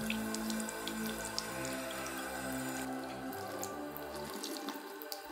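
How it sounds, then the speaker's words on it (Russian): Water runs steadily from an opened tap through a stretched band of napkins, a continuous close splashing stream with some dripping and a shift in tone partway through, no voices. "Открываем кран и регулируем натяжение салфеток"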